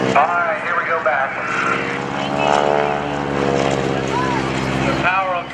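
Propeller aerobatic airplane engine performing at the 2015 NAS Oceana Airshow, a loud sustained drone with shifting pitch as power changes, while an announcer talks over it throughout.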